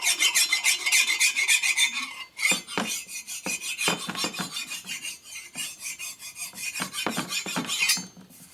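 A hand file rasps across raised aluminum on a 1961 Harley-Davidson FL 74ci panhead motor part, a series of sharp scraping back-and-forth strokes, close and fairly loud, with a short pause partway through.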